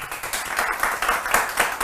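Studio audience on a Brazilian TV talk show applauding a newly introduced guest, a dense clatter of claps with repeated swells, moderately loud and close, with no talk over it.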